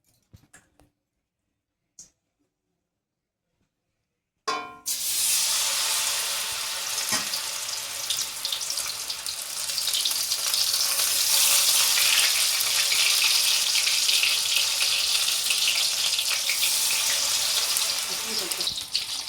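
Banana flower fritters (mocha bora) dropped one by one into hot oil in a kadai, breaking into a loud, steady, crackling sizzle after a few seconds of near silence with small clicks, continuing alone to the end.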